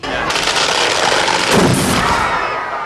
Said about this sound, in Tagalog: isang effigy ni Judas ang pinasabog